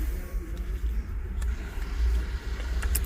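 A Toyota Supra Turbo engine idles steadily just after being fired up, a close, continuous low rumble with a few faint clicks on top and no talk.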